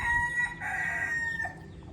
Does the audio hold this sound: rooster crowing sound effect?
yes